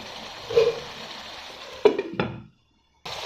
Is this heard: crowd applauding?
no